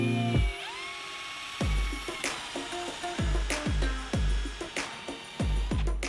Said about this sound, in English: we'll use our 16mm spade bit again and drill some holes about 20 to 25mm deep